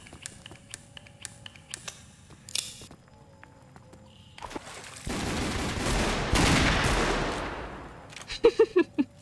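Gunfire in the Roblox game The Wild West: scattered single shots and clicks, a dense loud burst of firing in the middle, then a few sharp close reports near the end.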